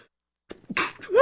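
One sharp, close sneeze bursts out of near silence, followed by a short voiced exhale.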